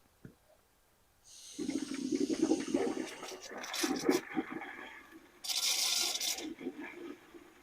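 Water gushing through the disconnected heater core hoses of a Jeep during a flush, a loud steady rushing and gurgling flow that starts abruptly after a brief pause and surges stronger toward the end.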